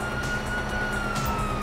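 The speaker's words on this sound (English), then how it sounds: "you hear that? Sirens!" Police sirens in the video game GTA 5: a steady wailing tone holds throughout over dense, loud background noise from the game.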